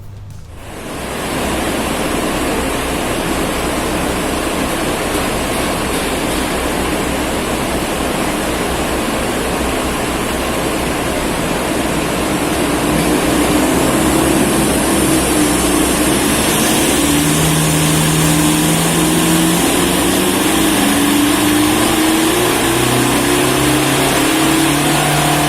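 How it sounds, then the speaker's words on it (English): A Toyota Innova fitted with a HotPipes downpipe runs on a dyno, giving a loud, continuous roar of engine and exhaust. Its pitch rises steadily toward the end as the engine climbs through the revs, and there is no talk. "So now we're gonna dyno it and see how much power we get"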